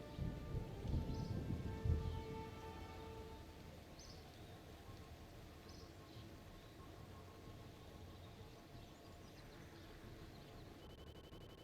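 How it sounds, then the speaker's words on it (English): Soft, steady rainfall patters as a quiet wash of noise at the space center in the video game Kerbal Space Program, with a brief louder rumble near the start and faint tones fading out. "Raining at the KSC."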